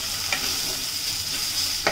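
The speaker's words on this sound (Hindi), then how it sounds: "इसे आप अच्छे से मिक्स करें" Spoon stirring cumin and dry mango powder into eggplant frying in a pan, a steady soft sizzle with a couple of brief scraping strokes, close and alone without talk.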